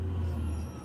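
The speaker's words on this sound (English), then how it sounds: "there goes the recycling truck. He's a bit noisy." Recycling truck passing outside, a brief heavy low engine rumble heard from indoors.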